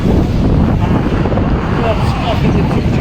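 Strong wind roars and buffets the microphone continuously on the top deck of a yacht at a yacht club in Kuwait, a loud, steady rumble with no pauses.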